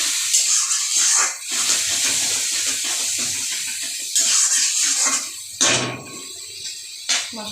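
Water poured into a pan of frying spice paste with chillies and tomatoes for a fish curry, giving a broad hissing sizzle and splashing that swells and fades in bursts, loud and close, with no talk.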